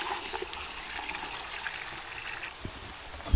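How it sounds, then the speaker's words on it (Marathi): Rain beginning to fall outside a house, a soft continuous patter and trickle of water, faint and steady with a small splash near the end. "आता घरी पोचलो आहे आणि आता पाऊस यायला लागला आहे"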